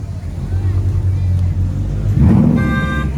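Ford Mustang spinning its tires at a street car meet in LA, a loud revving engine roar building into a tire burnout squeal, with excited shouting from people nearby.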